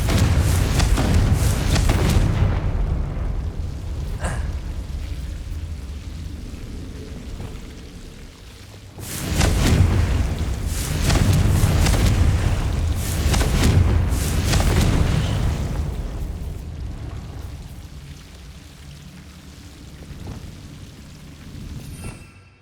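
Confringo blasting spells from Hogwarts Legacy go off in repeated loud, deep booming bursts, first fading, then a heavier sustained volley of explosions that rumbles on before trailing away.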